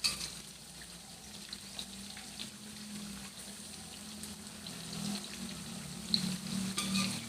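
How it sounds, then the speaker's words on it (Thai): Giant snakehead fish pieces coated in batter fry in hot oil over medium heat, giving a steady, moderately loud sizzle with scattered pops and bubbling that run through the whole stretch. "ชุบแป้งทอดนะคะเนาะปลาชะโด ชุบแป้งทอด"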